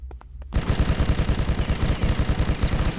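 A gigantic gun in the game Bloodrayne fires a loud, rapid automatic stream of shots after a few faint clicks, pounding steadily and evenly for the rest of the clip.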